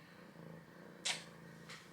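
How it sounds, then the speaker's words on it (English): A pet cat purrs softly and close by, a low continuous rumble broken by a brief sharp rustle near the middle and a fainter one toward the end. "I don't know if you can hear him purring, but he purrs so loud."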